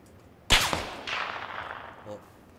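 A bullet whizzes close past in PUBG, a sharp loud crack followed by a long fading rush of air, with a brief faint blip near the end.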